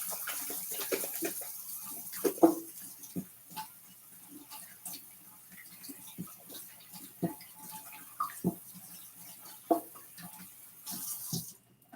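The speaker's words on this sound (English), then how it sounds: "Just gonna rinse off my hands real quick." Tap water runs steadily as hands are rinsed under a kitchen faucet, a continuous close splashing stream with a few louder splashes and clinks while onions and an omelette are being prepared.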